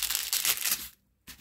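A transparent protective plastic film crinkles and rustles as it is handled and smoothed back over a diamond painting canvas, close and soft, in two short bursts separated by a brief silence.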